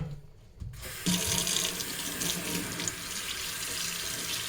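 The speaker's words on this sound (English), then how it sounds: "And I'm just rinsing with some warm water at first." Warm water from a tap runs into a sink while doll hair is rinsed under the flow after Rit dyeing. The gush starts abruptly after a brief quiet and then runs steadily and loudly.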